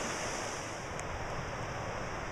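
The Colorado River flows at the bottom of the Grand Canyon near the suspension bridge. It makes a steady, broadband rushing wash at a moderate level, unbroken and without voices.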